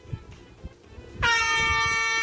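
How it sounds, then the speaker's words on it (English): An emergency air horn blasts loud and sustained after a second of quiet low thumps, holding a steady blaring tone to the end. "Alfred, give me the emergency air horn."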